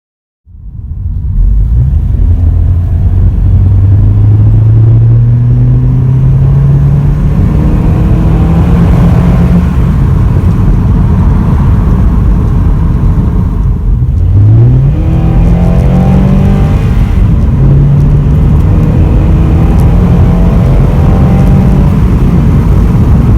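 A Honda car with a K&N short ram intake and no intake resonator accelerates hard along a long straight, its engine rising through the revs in loud, close runs with brief gear-change dips.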